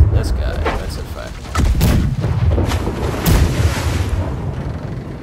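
Ship cannons fire a broadside in the pirate game Blackwake, heavy booming shots landing in a few rolling bursts over wind and sea noise, with a crew voice shouting nearby.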